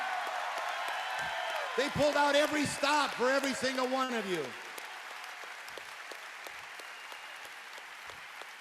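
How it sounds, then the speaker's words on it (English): Conference crowd applauds a corporate team in a large hall, clapping and cheering rising under a loud amplified voice over the PA, with whoops during the speech, then settling into a thinner, steadier patter once the voice stops. "Give them a round of applause like you've never seen."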